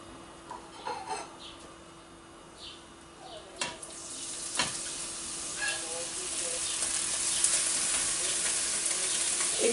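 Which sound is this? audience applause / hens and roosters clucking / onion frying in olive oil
onion frying in olive oil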